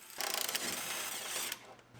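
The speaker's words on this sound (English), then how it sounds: "Now we can unbolt the gearbox." A ratchet clicks rapidly while unbolting the steering gearbox from a 1965 Mustang being stripped, a short close burst of metallic pawl ticking lasting under two seconds.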